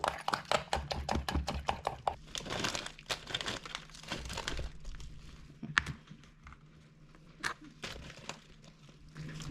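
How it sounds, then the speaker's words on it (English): Pecans being stirred into baking ingredients in a bowl make rapid crunchy, crinkly scraping strokes in bursts, close up and fairly soft, thinning out into sparser knocks toward the end. "I'm mixing it together."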